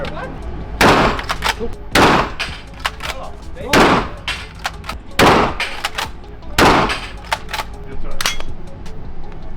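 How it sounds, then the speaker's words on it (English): Shotgun blasts at an outdoor shooting range as clay plates are shot one at a time, five loud, sharp reports spaced a second or so apart, each with a short decaying tail over low background noise. "shoot plates one by one"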